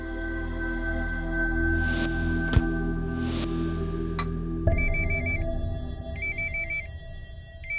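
A telephone rings with a repeating electronic ringtone pattern, fairly loud and close, over a low steady hum with a couple of clanks beforehand.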